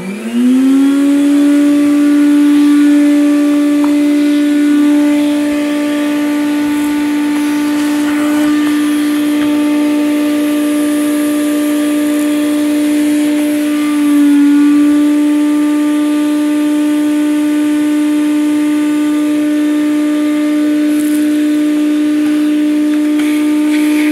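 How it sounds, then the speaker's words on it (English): A shop vac runs steadily for a long stretch, vacuuming up hair while a Dirt Devil Endura Lite vacuum is cleaned, with a loud, constant motor whine and droning hum, its pitch dipping briefly as suction load changes, with no talking. "now we can vacuum up the hair with the shop vac"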